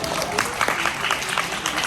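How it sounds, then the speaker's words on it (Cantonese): Applause from the audience at a Hong Kong awards ceremony honouring new sales masters: a dense, steady patter of many hands clapping at once, sustained for about two seconds with a few sharper claps standing out. "讓我哋再一次俾熱烈嘅掌聲佢哋。"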